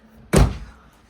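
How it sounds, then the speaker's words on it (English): A hood release latch on a 2004 Buick LeSabre gives one sharp, solid thunk, close and loud, then fades quickly into quiet. "Pop open the hood."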